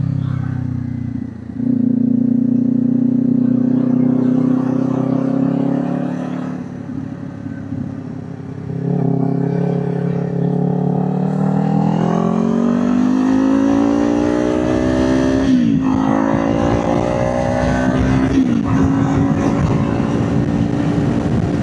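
A 2024 Kawasaki Ninja 500 motorcycle accelerating hard up a highway on-ramp, engine pitch climbing through several gear shifts with brief dips between, loud and close, alone.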